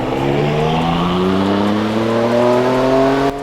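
The S58 engine of a BMW X5 in the video game Car Parking Multiplayer 2, revving steadily upward on a dyno without a turbo, loud and close, its tone climbing smoothly before cutting off abruptly.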